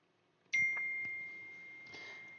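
A mobile phone notification chime rings out once with a sharp onset, then holds as a steady bright tone that fades slowly, with a faint second shimmer near the end, in an otherwise quiet room.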